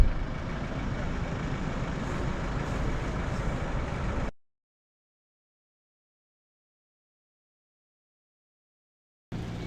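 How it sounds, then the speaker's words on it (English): Vehicles gathered at a roadside breakfast stop on the Leh to Srinagar road in India, engines rumbling and idling together in a steady broad drone that cuts off abruptly partway through, followed by silence before the noise briefly returns. "Oh, there's so many cars here."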